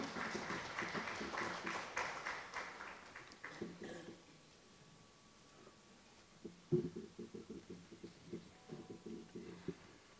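A conference audience welcomes a guest, Dr. Mnata, with applause. Muffled speech comes first, then a burst of scattered, fairly faint clapping fills the last few seconds.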